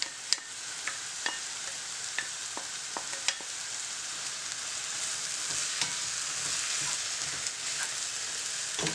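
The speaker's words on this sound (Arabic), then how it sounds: "كما لاحظتوا معايا طيبت هاد الحشوه هكا في مقله تكون غارقه" Mushroom and pepper filling frying in a pan, a steady soft sizzle and crackle throughout with occasional sharper pops and spatters, close and continuous with no talking.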